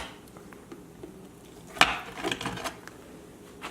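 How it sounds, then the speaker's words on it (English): A knife cuts a sandwich into quarters on a board, giving one sharp, quiet slice and thud followed by a few soft taps and rustles. "we're gonna cut it into quarters."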